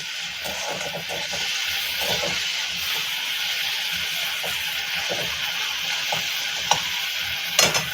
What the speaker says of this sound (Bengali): এবার নেড়ে চেড়ে ভালো করে নাড়বে ভাজা হয় যেন